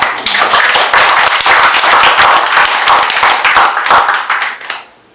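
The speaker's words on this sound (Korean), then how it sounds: "우리 백 대표한테 박수 한번 주세요" A room full of people at a theatre supporters' gathering and exhibition opening claps for the troupe's representative, dense lively applause that holds strong for about four seconds and then tapers off, with murmured voices underneath.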